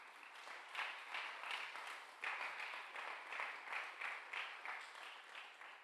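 Church congregation applauding at a Sunday service, a steady wash of many hands clapping in a moderate, somewhat distant burst that swells and pulses unevenly throughout.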